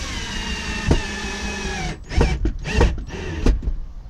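A power drill drives screws into a PVC outdoor storage chest: a steady motor whine runs, then cuts into several short bursts with pauses, loud and close.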